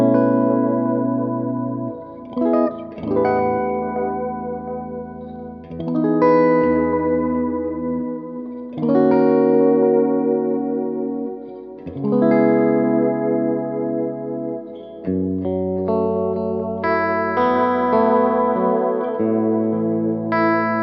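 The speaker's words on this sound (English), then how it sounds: "I like to add a bit of modulation to this particular setting just to give it a little bit more vibe" An electric guitar runs through a mini pedalboard set to a lo-fi delay with added modulation. Sustained chords swell and trail off in wobbling echoes, heard close and loud with no voices.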